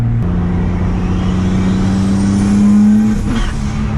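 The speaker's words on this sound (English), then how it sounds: "I just hit boost cut. That's why it sounds like that." A loud, droning BMW E30 with a rebuilt forged turbo M50 engine holds a steady high note, then stutters abruptly as the rev limiter cuts boost, with a whooshing release near the end.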